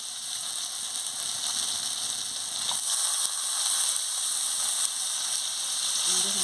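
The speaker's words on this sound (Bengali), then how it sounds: "এবার আমি জল দিয়ে দেবো" Spiced masala frying in a pan hisses in a continuous bright sizzle that swells slightly as water goes in, with a brief clatter and a faint voice-like murmur late on.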